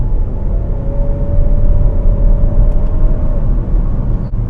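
A 2018 Kia Sportage Turbo gives off a steady low engine grumble with a faint rising whine as it downshifts, heard from inside the cabin with road rumble underneath and no talking.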